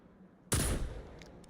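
A single service revolver shot in Destiny 2 on PC: one sharp, loud crack that decays into a short booming tail, with nothing else around it.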